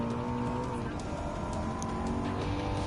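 A Maserati MC20 races at Road Atlanta in Gran Turismo 7 with a continuous, loud engine drone that holds a steady pitch throughout the short stretch.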